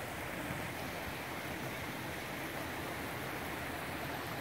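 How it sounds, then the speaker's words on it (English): Steady broadband rush of a river of clean, clear water flowing at Cascade Falls, North Carolina, loud, continuous and close, with no voices. "River flowing with clean,"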